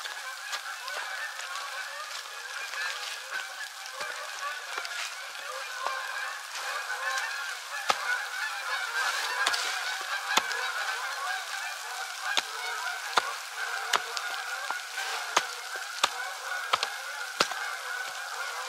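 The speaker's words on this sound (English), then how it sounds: "A lot of geese." A large flock of geese honks continuously in the distance, a dense overlapping chorus with occasional sharp clicks standing out.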